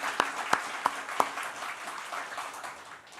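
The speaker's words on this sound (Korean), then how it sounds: "다시 한번 우리 환영의 박수 드리겠습니다." A church congregation at a Sunday service offers welcoming applause: four sharp, evenly spaced claps ring out first, then a softer, diffuse patter of hands trails off into room noise.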